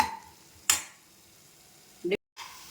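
Green peas stir-fried in a pan with a steady soft sizzle, a sharp stir or scrape partway through and a brief clatter near the end.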